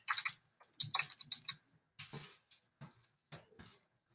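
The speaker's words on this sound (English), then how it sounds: "if I were to type that into Desmos over here" Someone types on a computer keyboard into Desmos, quick bursts of crisp, close key clicks separated by short pauses.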